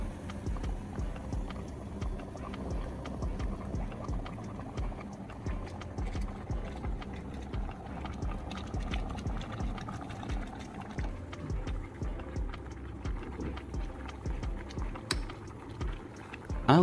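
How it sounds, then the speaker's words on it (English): Water at a rolling boil inside a modified electric kettle cooker, cooking eggs, with a steady dense bubbling and rattling that continues close and fairly loud throughout, with no talking. "The water is at a rolling boil"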